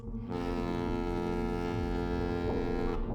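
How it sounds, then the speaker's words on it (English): A ship's horn blares aboard a boat in the Vampire The Masquerade Bloodlines video game, one deep, loud, steady blast held for about three seconds with no speech over it. "Sound the horn."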